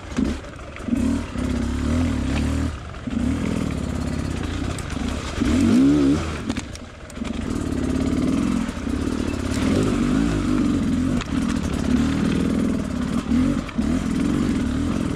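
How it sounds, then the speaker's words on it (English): An enduro motorcycle fitted with a SmartCarb lugs steadily at low revs across slick, damp terrain, a loud continuous close engine drone with brief dips and small rises in throttle, no talking. "you're gonna see the bike just lugging so easily"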